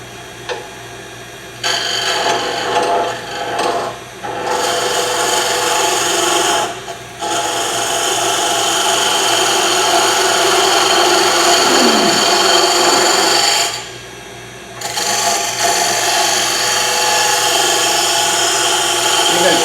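Skew chisel cutting wood on a lathe, a steady rasping, shaving hiss that runs continuously with a few brief pauses, fairly loud and close.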